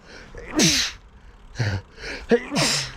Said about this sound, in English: That was actually sneezes.